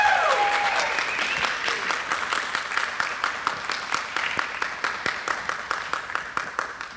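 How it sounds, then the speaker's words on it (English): An audience applauds at a dance conversation event, steady clapping at first that thins into sparser, rhythmic claps as it winds down, with a faint voice early on. "Maybe another round of applause for Jessie Factor."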